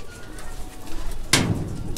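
Pigeon cooing in a loft, one short burst standing out over a steady low background murmur of birds.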